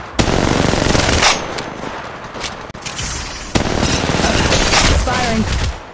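Automatic weapon fire in Apex Legends Mobile: loud, dense bursts of rapid shots fill the clip, with a brief break midway before another sustained burst and scattered impact effects.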